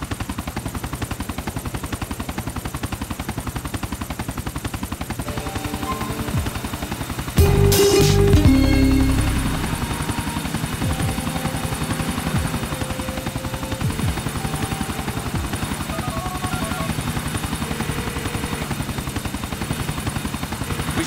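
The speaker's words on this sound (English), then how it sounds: "Shut down that chopper for you." Helicopter flying in the video game GTA 4, a steady loud rotor drone running throughout over game ambience, with a short heavy burst of gunfire or impact partway through.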